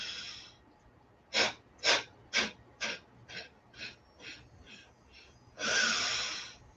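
Fire breath, a yoga breathing exercise, heard as a run of nine sharp, forceful nasal exhales close to the mic that grow gradually weaker, then one long sustained exhale to finish.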